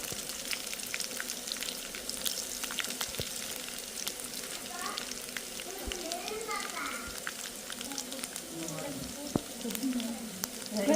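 Mustard seeds frying in hot oil, crackling and sizzling continuously near the pan with scattered sharp pops and scraping stirs, while a person talks over it.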